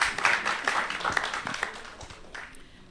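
Audience at a literary festival in Islamabad clapping, a fairly close burst of scattered applause that is strongest at the start and gradually thins out.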